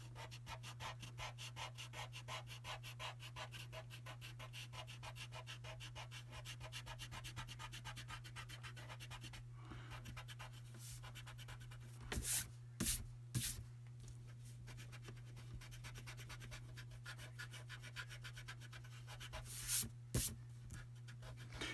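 Pencil lines being erased from paper: continuous rapid back-and-forth rubbing strokes, close and fairly quiet over a steady low hum, with a few brief louder scrapes near the middle and end.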